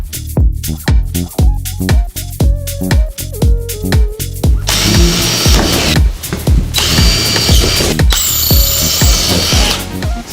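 A power drill bores out rivets in the aluminum ceiling panel of an Airstream trailer, whirring in repeated short bursts, then grinding harder and continuously as a rivet spins, loud and close with no talking.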